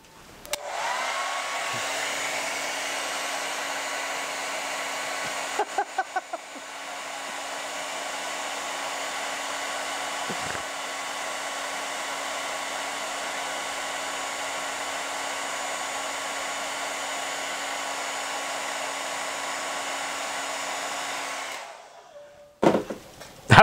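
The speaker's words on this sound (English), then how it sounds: "I use a hairdryer about the same distance because I used it on the other one as well" A hair dryer blows steadily at close range onto a small wind turbine for about twenty seconds, with a brief stutter near the start, then clicks off.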